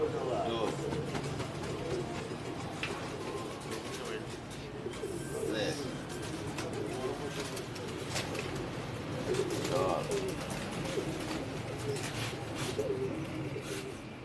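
Racing pigeons coo steadily in locked cages on a rooftop loft the night before a race, a continuous mass of low cooing with people talking over it.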